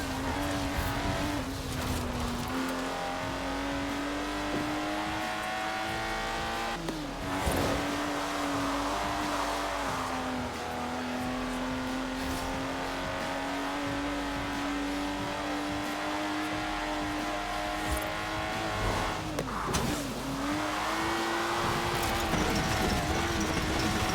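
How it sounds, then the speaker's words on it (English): Lotus sports car in the racing game Forza Horizon 4, a loud, steady engine drone that rises through the gears with two brief dips between shifts and some tire noise, continuous for over twenty seconds. "This is a car that demands you drive it well."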